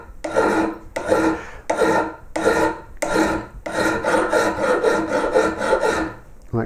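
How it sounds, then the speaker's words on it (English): A hand rasp files a flat face onto a woodcarver's punch in about eight close, rhythmic rasping strokes. The first strokes are separate, and the later ones run together into a continuous scraping. "actually it's more accurate to do it with a rasp. I'm going to start creating a flat face here."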